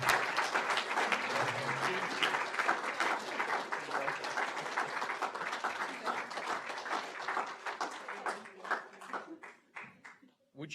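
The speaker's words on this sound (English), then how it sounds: "give you a big round of applause and a bunch of flowers" An audience at the 2019 Environmental Professional of the Year awards ceremony applauds steadily. The dense clapping thins and fades toward the end.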